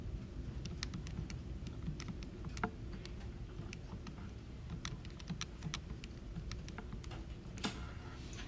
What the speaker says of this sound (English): Type it in the calculator.